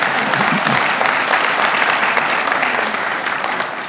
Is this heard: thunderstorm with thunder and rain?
no